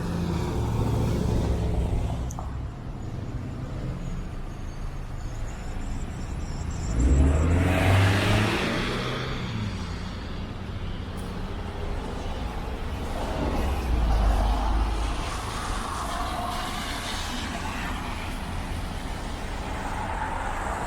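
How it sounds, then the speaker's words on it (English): Road traffic on a wintry Toronto street, cars and larger vehicles rumbling past at close to moderate distance, with louder swells as individual vehicles pass over a continuous background drone, no voices. "looking at all the traffic, heading back the way we came"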